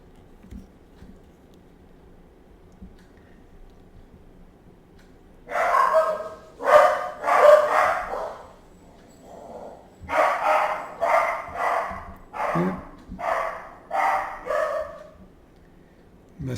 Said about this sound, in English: That's the dog barking up front.